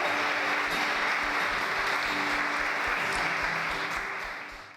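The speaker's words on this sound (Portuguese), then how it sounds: "Vamos aplaudir ao Senhor." A church congregation claps together in praise during a service, a loud, dense wash of many hands that stays even and then begins to fade at the very end.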